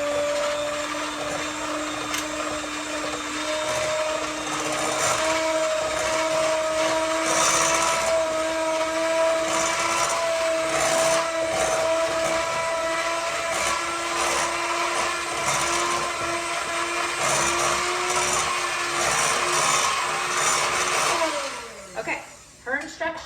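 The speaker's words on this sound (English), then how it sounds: "This is going to be the crust for our chocolate cheesecake. All right, let's blend that." A blender whirring steadily as it blends chocolate cheesecake crust ingredients, a loud continuous motor drone with a steady pitch that slows and stops near the end.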